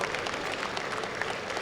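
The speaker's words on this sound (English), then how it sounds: "Please, not a better round of applause for Carl." An audience applauds, a dense steady patter of many hands clapping together.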